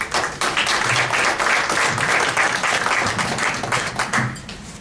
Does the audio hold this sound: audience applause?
yes